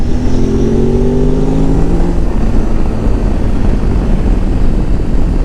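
A motorcycle carrying two riders accelerates to overtake on a mountain road. Its engine climbs in pitch over the first two seconds, then settles into a loud, steady roar mixed with rushing wind.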